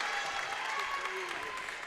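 Crowd applause in a gym during a women's college basketball game, a brief continuous patter of clapping with arena noise and a faint voice underneath.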